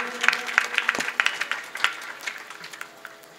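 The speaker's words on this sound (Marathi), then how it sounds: "म्हणून एकदा जोरदार टाळी होता सगळ्यांनी." An audience at a kirtan gives a burst of clapping, scattered, fairly close claps that build, then thin out and fade over a few seconds, with no talk.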